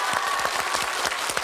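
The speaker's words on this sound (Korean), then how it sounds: "박수 한번 보내주십시오" Dense, steady audience applause in a television game-show studio, many hands clapping together at even loudness, a brief burst with no talking over it.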